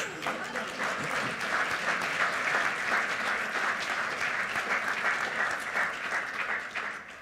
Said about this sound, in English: If you want to go ahead and clap, go ahead